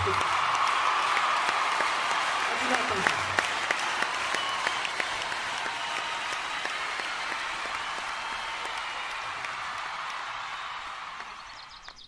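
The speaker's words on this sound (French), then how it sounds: "vous demande de vous lever et de l'applaudir." Long, steady applause from a standing audience honoring a woman at an award ceremony, continuous and full throughout before tapering at the very end, with a name called briefly over it.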